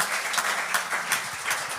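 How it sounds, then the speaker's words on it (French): Short burst of audience applause at a French stand-up comedy show, dense clapping with a few rhythmic accents, fairly loud and close. "On applaudit très fort."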